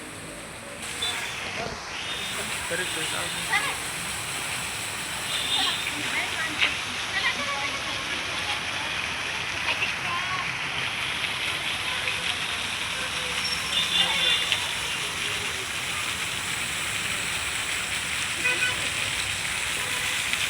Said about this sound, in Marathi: पाण्यावर चालणारी पीठ गिरणी आजही सुस्थितीत आहे